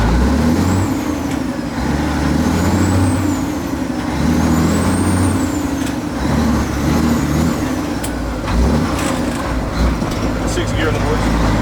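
A 2021 Kenworth W900 truck grinds through a gear shift and then brakes to a stop, its engine rumbling steadily and loudly close by while people talk over it.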